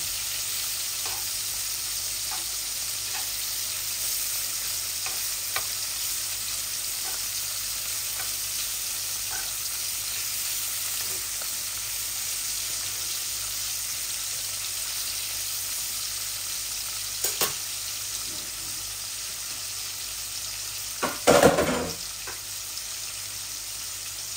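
Pieces of rui fish fry in a pan, a steady, even sizzle with scattered soft crackles, then a louder clatter near the end as the pan is handled, with no speech.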